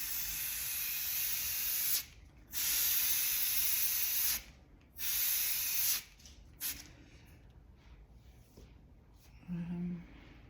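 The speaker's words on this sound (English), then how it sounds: "Use the canned air as your paintbrush and create all sorts of interesting folds." Canned air sprays over alcohol ink in several sharp hissing bursts of two to three seconds each, separated by pauses, then shorter puffs, close and fairly loud.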